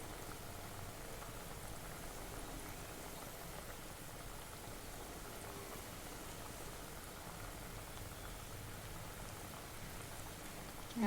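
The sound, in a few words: chakli frying in hot oil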